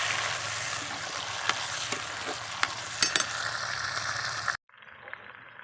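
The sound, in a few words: tomatoes and green chillies frying in a pan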